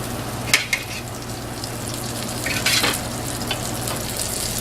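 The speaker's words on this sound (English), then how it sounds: "Oh yeah, got a little bit of sizzle." Steady sizzling of shrimp frying in a pan, a continuous crackling hiss with a few sharper pops, close and fairly loud.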